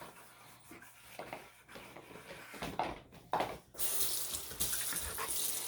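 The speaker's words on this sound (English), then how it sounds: "Go ahead and wash it while it's hot and get it nice and clean." A kitchen tap runs while a hot pot is washed, with soft clunks and scrubbing at first, then a strong steady gush of water hissing into the sink.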